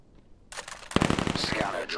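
Gunfire in the video game Vail: a sudden burst of rapid automatic shots cracks out after a quiet start, with the dense firing continuing to the end and voices faintly mixed in.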